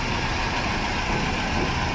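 A 40-year-old Toyota Celica engine idles close by, a steady, loud, continuous rumble with an even low drone and no break or change in pace, heard alone without any talking.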